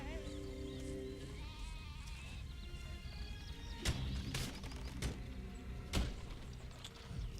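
Sheep bleat repeatedly in the Overlord video game, layered over steady game music and ambience, with a few sharp thuds cutting in near the end.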